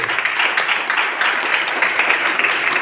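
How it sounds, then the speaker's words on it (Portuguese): Steady applause from a church congregation, even and sustained throughout, with no voices standing out. "Então aplauda o Senhor Jesus"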